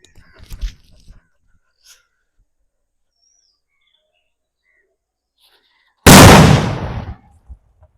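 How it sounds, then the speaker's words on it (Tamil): A one-kilogram Valangaiman country firecracker goes off in a single sudden loud blast that decays over about a second, after quiet with faint distant bird chirps and a brief burst of voices at the start. "அடுத்து வந்து ஒன் கேஜி வெடி"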